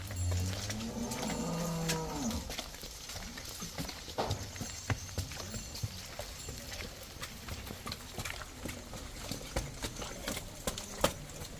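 A Jersey cow on a dairy farm lets out a low moo at the start, followed by soft hoof clops and scattered farmyard knocks and rustles that continue for several seconds.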